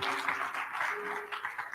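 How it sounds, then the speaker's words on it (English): Applause from a crowd gathered for a Martin Luther King Day of Remembrance, a steady, moderately faint wash of clapping that runs the full length without voices. "Round of applause, please."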